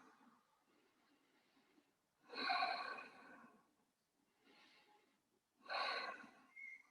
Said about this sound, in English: And taking a few deep breaths after that.